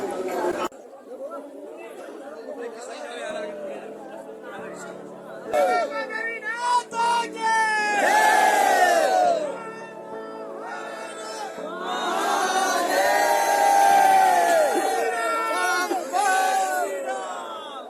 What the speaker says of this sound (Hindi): भीड़ बहुत ज़्यादा है, कुछ समझ नहीं आ रहा